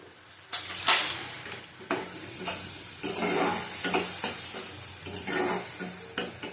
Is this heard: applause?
no